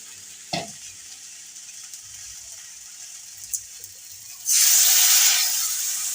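Spices ground with water, including chili powder, cumin and turmeric, land in a hot pan for a chuno fish curry; a loud, sudden hissing sizzle erupts after several quiet seconds of faint kitchen clatter and keeps going strongly.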